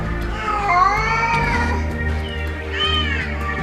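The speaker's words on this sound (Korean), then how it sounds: "또다시 목 놓아 울기 시작하는 어미 고양이와 갇혀있는 새끼." A mother cat cries loudly and repeatedly at a cement apartment entrance, long rising and falling meows close by over low background noise, calling for her trapped kitten.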